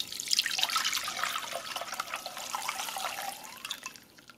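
Blended strawberry horchata liquid trickles and streams steadily through a strainer, a close, continuous watery rush with small drips, no voices.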